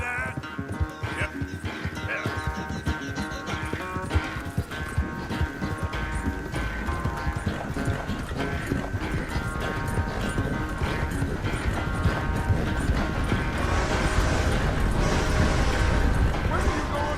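Horse hooves clip-clop steadily in Red Dead Redemption 2, a continuous rhythmic patter running the whole time beneath game music and occasional talk.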